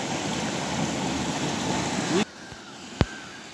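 Steady broad rush of water pouring through an old British-era water storage lock that feeds crop fields, loud and continuous before cutting off abruptly, leaving a quieter background with a single sharp knock.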